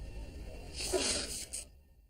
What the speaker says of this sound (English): he's actually made himself sneeze.